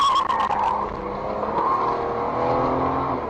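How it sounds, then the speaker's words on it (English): Car tires screech loudly as the car speeds away from a masked man, a sustained skidding squeal over a revving engine, close and without speech. "We can then hear the screeching of tires"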